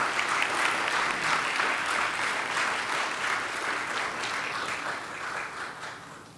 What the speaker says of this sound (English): Let's give a round of applause for our host mayor,